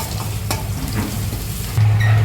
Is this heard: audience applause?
no